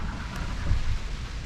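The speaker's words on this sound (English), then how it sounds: "it's raining now" Rain drumming on an anchored boat's cabin during a storm, a steady low rumbling wash with a brief swell of louder patter midway, no voices.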